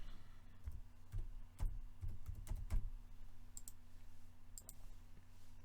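Quiet mouse clicks at a computer desk during Salesforce Data Loader work, a cluster of sharp ticks in the first three seconds and a few lighter taps later, over a steady low hum.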